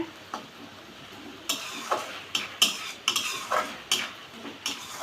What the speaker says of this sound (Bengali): দেখুন কি সুন্দর কষানো হচ্ছে